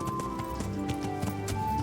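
Horse hooves clopping in the medieval video game Kingdom Come Deliverance, a steady run of hoof beats over a dense game soundscape of music and ambience, with no voices over it.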